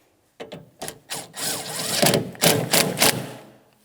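Hardware being snugged up on the coolant reservoir of a 2007-2014 GMC Sierra 2500 HD, heard as a close series of short scraping, ratcheting bursts that grow into a longer grinding run.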